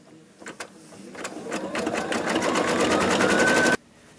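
A sewing machine stitches the next rainbow piece onto a St Patrick's Day treat bag, starting with a few short bursts, then running in a steady, rising whir for about three seconds before it stops abruptly.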